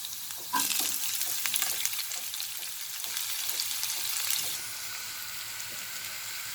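Chopped onions and garlic sizzle in a hot pan, a bright crackling fry that flares as they go in, then settles into a steady hiss with occasional stirring scrapes, close and alone.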